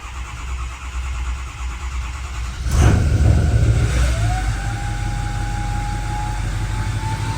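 A Ford 6.0 Powerstroke diesel engine cranks and catches with a loud surge, then settles into a rough, uneven running sound that falters, heard up close.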